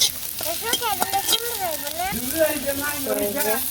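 Ginger-garlic paste sizzles steadily in hot oil in a home kitchen, a close, continuous frying hiss with voices talking over it.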